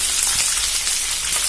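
Green chillies hit hot oil in a pan for kanda pohe, producing a loud, dense, continuous close-up sizzle with a crackling, rain-like hiss that holds steady throughout.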